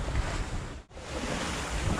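Strong wind of about 20 knots roaring over a sailing boat while beating to windward, a loud steady rush of wind noise on the microphone with water sounds beneath and one short dip, no voices.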